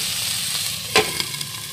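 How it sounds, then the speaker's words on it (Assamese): Hati bhekuri (bitter berry) stir-fry sizzles steadily in a pan, with one sharp scrape and a few light clicks of stirring partway through. "এইফালে ভাজিখিনি অলমষ্ট হৈ গ'ল"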